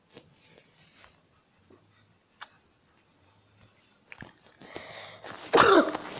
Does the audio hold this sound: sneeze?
yes